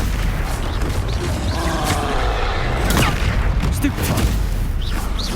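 Stupefy spell cast in the video game Hogwarts Legacy lands as dense, booming blasts like gunfire, set in loud, continuous combat noise with voices mixed in.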